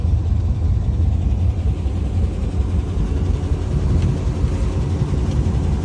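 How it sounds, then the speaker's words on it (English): A boat motor running steadily after being started at the launch on its first trip into the water, a continuous close, low rumbling drone with no talk over it. "The motor's running."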